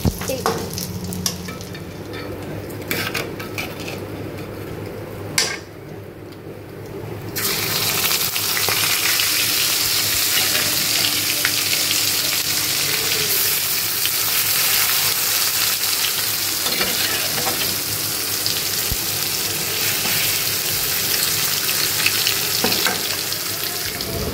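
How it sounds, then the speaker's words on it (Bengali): Cumin seeds and two bay leaves drop into hot oil, and a quieter kitchen background suddenly bursts into loud, sustained sizzling and crackling that stays strong and close for the rest of the time. "তেল গরম করে নিয়েছি, এর মধ্যে এখন একটু জিরা ছেড়ে দিব, আর হচ্ছে 2টা তেজপাতা।"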